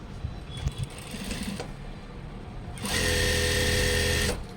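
A sewing machine stitching the folded hem of a chudithar top, heard as a loud, steady whirring run near the end, following quieter handling of cloth.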